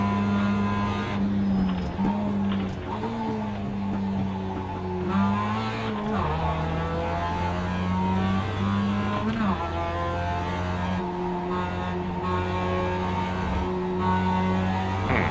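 A race car engine on track in a racing game, holding a steady droning tone that rises and falls with throttle and gear changes, with some tire squeal, loud and continuous throughout.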